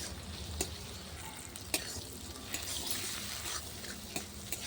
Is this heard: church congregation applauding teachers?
no